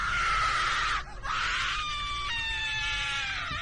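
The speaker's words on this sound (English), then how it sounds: "A scream." A shrill, loud scream sound effect in a frightening school setting: one sustained cry, a brief break, then a second long wail that slowly falls in pitch, over steady low background noise.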